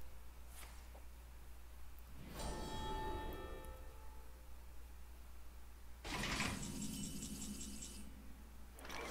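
Two bursts of bright, metallic bell-like chimes from the Sound the Bells card in Hearthstone, each ringing out and decaying over a steady low hum.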